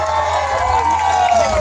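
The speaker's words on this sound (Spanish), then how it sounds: "Un fuerte aplauso para mi teclado" A crowd at a closing concert of a town festival in El Salvador cheers and shouts loudly and continuously for under two seconds, with a sustained sliding musical tone running through the noise.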